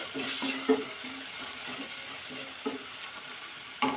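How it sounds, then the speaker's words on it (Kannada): Garam masala spice paste frying in oil over a low flame for a hotel-style saagu curry, a steady soft sizzle with a few louder spatula scrapes against the pan, close by and with no talking. "ಇನ್ನು ನೀಟಾಗಿ ಎಣ್ಣೆಲಿ ಫ್ರೈ ಮಾಡಿ."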